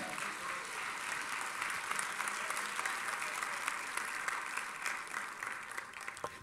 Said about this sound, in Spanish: Dele palmas al Señor esta noche.